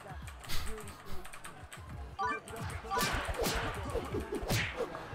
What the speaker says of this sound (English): You guys like listening to my mechanical keyboard?